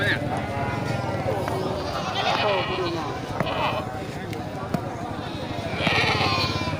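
Goats and sheep bleat at a livestock market goat stall during the last week before the fasting month, with loud calls rising over crowd noise, hoof clatter and people talking nearby.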